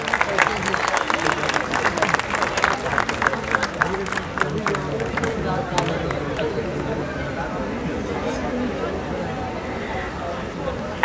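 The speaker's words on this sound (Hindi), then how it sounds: "एक बार जोर से तालियां बजाइए प्लीज।" An audience at the Iter & Sugandhi Festival at Sunder Nursery in Delhi claps loudly for several seconds before the clapping fades into crowd murmur and voices.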